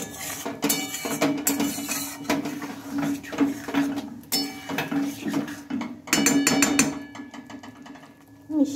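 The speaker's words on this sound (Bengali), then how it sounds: "এবার একটু ভালোভাবে মিশিয়ে নেব।" Spice paste and water being stirred together in a metal pan with a utensil, irregular clinks and scraping knocks in bursts, fairly close, with brief pauses.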